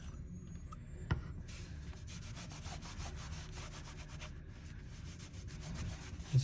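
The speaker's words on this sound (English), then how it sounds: "I'm just going to use a horsehair brush I should say, and just kind of come through and rub that in" A horsehair brush rubs balm into Horween Dublin leather with quick, quiet back-and-forth scrubbing strokes, close and faint, and a couple of soft knocks.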